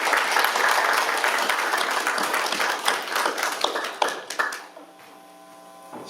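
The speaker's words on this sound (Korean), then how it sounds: "특별하게 오신 분한테 우리 환영의 박수 한번 부탁드리겠습니다" An audience at a community lecture breaks into welcoming applause, a loud sustained wash of clapping that thins into scattered claps and dies away, leaving a faint steady hum.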